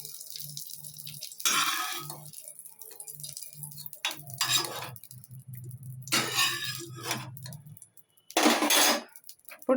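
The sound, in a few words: fried raisins being transferred into a bowl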